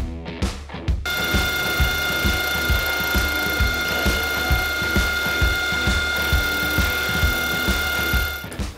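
A hand ratchet clicks steadily as an engine part is bolted onto a scratch-built 150cc four-stroke engine, with loud, close, regular pawl clicks alongside a bright ringing metallic tone, no talk.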